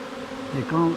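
Honey bees buzz close by as they crawl into a hive, a steady insect drone with a few louder passes near the end.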